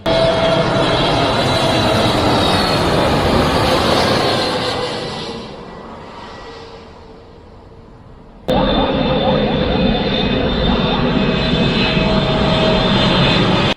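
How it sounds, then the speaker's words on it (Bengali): A Qatar Airways airliner passes overhead near Dhaka airport at Baunia, Uttara, as it comes in to land. Its loud, broad engine roar fades partway through, then cuts back in abruptly at full strength. "প্রিয় দর্শক এই বিমানটি কাতার এয়ারলাইন্সের একটি বিমান"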